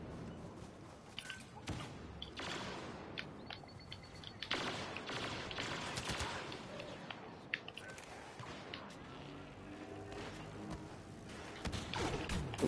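Rapid weapon fire in a Star Wars video game, a dense stream of blaster-like shots and thuds running throughout at moderate, steady loudness with no talking.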